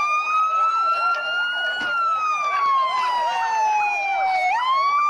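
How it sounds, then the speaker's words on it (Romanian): Police car sirens wail continuously in a street in Calafat, Romania, a loud, close, rising-and-falling tone with a rapid warbling layer underneath. "sirenele mașinilor de poliție sună într-una"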